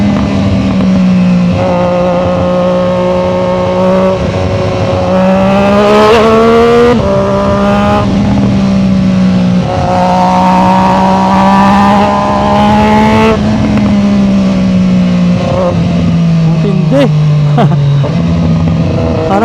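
A Triumph Street Triple Moto2 Edition motorcycle in sport mode rides loud and close, its engine droning and rising through repeated revs and gear changes with a steady, harsh mechanical tone.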